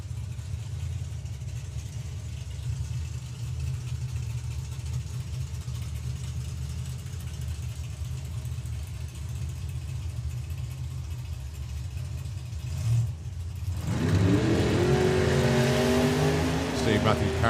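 A 1957 Chevy drag racing car idles with a steady low rumble at the drag strip, then launches into a loud, rising roar of revs, while a commentator's voice runs over it.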